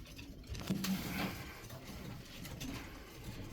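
Breeding pigeons in a loft holding dozens of breeding pairs give soft, low cooing, faint and somewhat distant against a quiet background.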